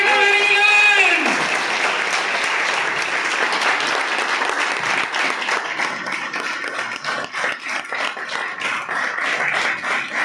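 A crowd at a network-marketing training event claps to welcome a platinum director on stage; after a short spoken announcement, dense, steady applause rises and holds for the rest of the stretch.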